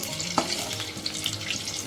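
Gokul pitha, a traditional Bengali sweet, deep-frying in hot oil one by one, giving a steady close sizzle with a brief stir or clink near the start.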